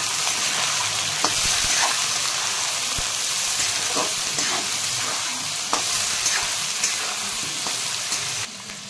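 Golden moong dal fries in a pan with ginger paste, a continuous crackling sizzle overlaid with repeated scraping strokes of stirring.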